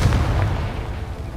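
A single deep, booming blast in a Hogwarts Legacy game battle as the Confringo spell hits, loud and close, with a dense low rumble that fades over about a second and a half.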